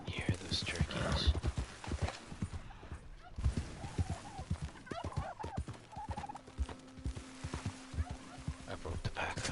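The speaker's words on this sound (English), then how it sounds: "You hear those turkeys?" Wild turkeys gobbling in the Red Dead Redemption 2 Online video game, several bursts of calls scattered among hoof clip-clops and other game noise, with someone talking over parts of it.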